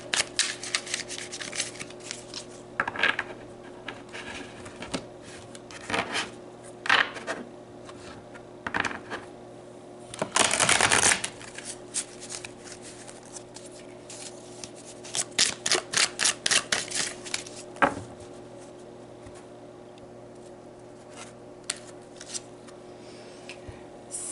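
Tarot cards are shuffled and handled near the listener. Quick riffles and bridge bursts come in clusters between quieter taps and slides, and one longer, louder shuffle lands midway, all without speech.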